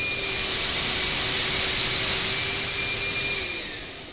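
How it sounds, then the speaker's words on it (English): A MetroVac Master Blaster vacuum blower runs its two motors with a loud, steady rushing whine and broadband hiss, holding constant before easing off slightly at the end. "we're going to turn on one motor, then we're going to go to the second motor"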